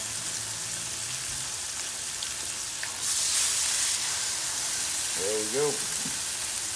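Crawfish-stuffed catfish sizzles steadily on a 22-inch Blackstone griddle, a continuous loud hiss and crackle with a brief swell in the middle. Someone speaks briefly near the end.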